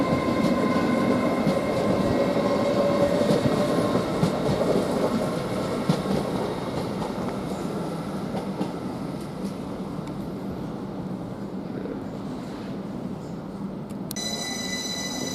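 A London King's Cross to Bradford Forster Square passenger train departs Doncaster station, its steady rumble and rolling wheel noise heard close and loud at first, then gradually easing as it pulls away.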